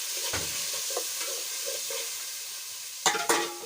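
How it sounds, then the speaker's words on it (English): Chopped tomatoes and onions fry quietly in a pan at a village cookout, a soft steady sizzle broken by scraping stirs and a couple of louder clanks near the end. "Let them cook as well as we keep on stirring our paste."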